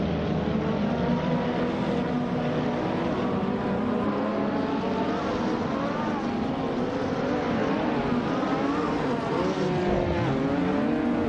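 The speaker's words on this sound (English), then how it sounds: "The race just kicked off at Montmelo Rallycross and Amy's, starting on pole in a 2015 Koenigsegg Agera S." A 2015 Koenigsegg Agera S and rival cars at the rallycross race start in a racing video game, with steady loud engine drone and rising, shifting revs throughout.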